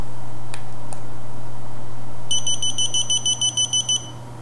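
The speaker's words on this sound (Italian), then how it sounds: "il portachiavi fa sentire quindi il suo suono e ci permetterà quindi di capire dove abbiamo messo le nostre chiavi" An Esky key finder keychain sounds its alarm, a train of evenly spaced high electronic beeps that cuts in partway through, rising to a loud, close level over a steady low hum, with a couple of faint ticks earlier.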